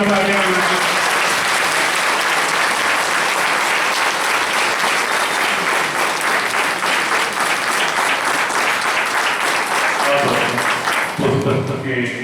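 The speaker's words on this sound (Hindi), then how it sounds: "जोरदार तालियां।" A crowd at a Hindi bhajan and book-release event breaks into loud, sustained applause that fills the hall and fades out near the end, with a voice speaking briefly over it.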